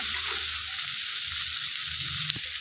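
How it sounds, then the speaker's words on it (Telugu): Bitter gourd frying in oil in a pan, a continuous close hiss of sizzling with a faint clink of a utensil near the end, no talking. "అయితే వేయించుకోవాలి"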